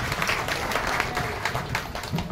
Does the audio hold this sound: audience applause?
yes